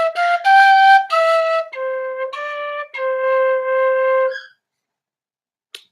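A short practice phrase on a six-hole wind instrument: a run of sustained, breathy notes stepping up and down in pitch, played close and alone, ending with a quiet pause and a faint click.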